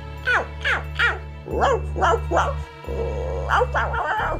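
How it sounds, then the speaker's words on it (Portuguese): A dog barks in a series of short, sharp yaps in bursts, heard fairly close over a steady low hum, with brief pauses between groups of barks. "Mas o dog insistia em latir."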